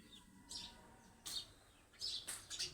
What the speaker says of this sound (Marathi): हायच रे चिवताई बसला